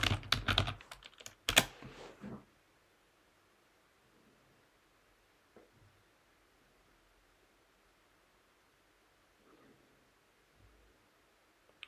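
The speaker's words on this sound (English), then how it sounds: "And he's typing" A quick burst of clacking keyboard typing lasts a couple of seconds, followed by near silence with only a few faint soft clicks.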